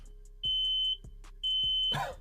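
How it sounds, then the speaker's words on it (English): A smoke alarm sounds after a Pixel 10 Pro Fold phone catches fire when bent backwards, giving two loud, sustained high-pitched beeps separated by a short gap, with low hum and a few soft thumps underneath. "my fire alarm is going off"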